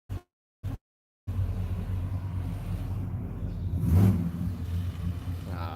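A box Chevy pickup truck's engine rumbles steadily nearby, swelling briefly as it passes, after a couple of short bursts of sound at the start.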